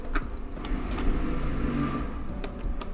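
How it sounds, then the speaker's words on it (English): A loud truck passes outside, a steady mid-low engine drone with rattling and clunking noises on top that swells slightly around the middle and stays fairly distant. "there's a loud truck outside"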